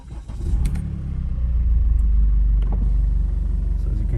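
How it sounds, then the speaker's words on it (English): A 2011 Mercedes A-Class W169 with a 2.0 diesel engine and a fault warning light on cranks briefly and starts, then settles into a steady, close, loud diesel idle with low rumbling clatter. "Let me start the engine here."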